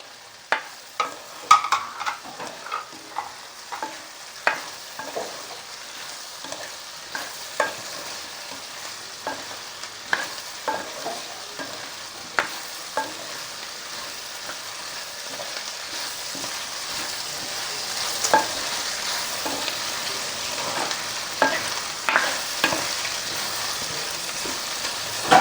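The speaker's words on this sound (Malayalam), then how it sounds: "ഇനി നമുക്ക് അതിൻ്റെ കൂടെ പച്ചമുളക് കൊടുക്കാം." Green chilies sizzle steadily in hot oil in a pan for a homestyle chicken curry, with repeated sharp scrapes of a spoon stirring every second or two throughout.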